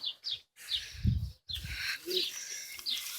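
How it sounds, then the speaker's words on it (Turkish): Newly bought birds settling into a freshly built coop with wood shavings on the floor, giving repeated short high chirps and calls, close by, with a soft low thump and some rustling between them. "Yeni aldığım kuşları buraya attım."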